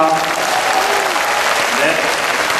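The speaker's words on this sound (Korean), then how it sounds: "박수 부탁드립니다." Loud, dense applause fills a hall after an orchestra performance at a community club concert, sustained and even throughout with crowd noise mixed in.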